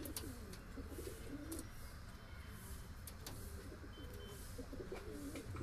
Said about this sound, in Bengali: এই দেখুন পায়রা